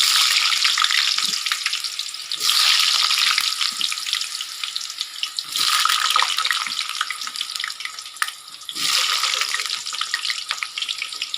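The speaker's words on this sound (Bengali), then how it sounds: "কড়াইতে তেল দিয়ে দিয়েছি আমি, তেল গরম হয়ে গেছে, আলুগুলো ভেজে নেব।" Diced potatoes fry in hot oil in a wok with a continuous hissing sizzle that swells in a few louder bursts, likely as they are stirred; fairly close, no talking.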